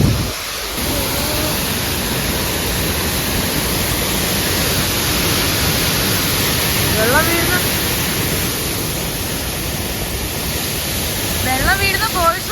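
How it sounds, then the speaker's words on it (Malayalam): A waterfall pours down with force at a cold, misty roadside stop, giving a steady, loud rush of water throughout. Voices come through faintly near the end. "വെള്ളം വീഴുന്ന ഫോഴ്സ് നോക്കണേ, നല്ല ഫോഴ്സിലാ വീഴുന്നില്ലയോ വെള്ളം നല്ല ഫോഴ്സിലാ വീഴുന്നത്"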